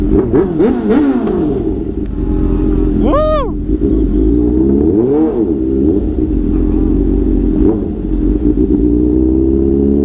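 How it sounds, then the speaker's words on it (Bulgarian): Motorcycles being ridden, their engines revving and surging in rising and falling pitches, loud and close with rough rumble, while people talk over them. "Караме мотори!"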